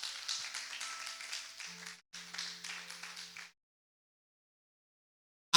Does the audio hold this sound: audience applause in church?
yes